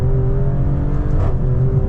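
A 2025 Maserati Grecale Trofeo engine pulls hard under acceleration, a deep, steady, close-up drone with a slight rise in pitch, heard alone without any talking.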